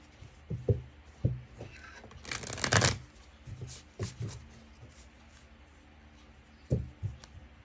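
A tarot card deck being shuffled by hand: quick papery riffles and soft slaps in short bursts, with one longer, denser run of shuffling in the middle, close and fairly quiet.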